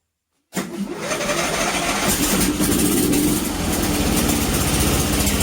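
After a moment of silence a Briggs and Stratton 12.5hp engine starts abruptly and keeps running, loud, close and steady.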